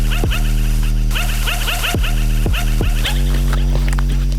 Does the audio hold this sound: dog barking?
yes